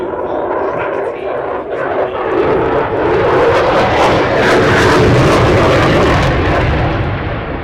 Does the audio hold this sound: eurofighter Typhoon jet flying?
yes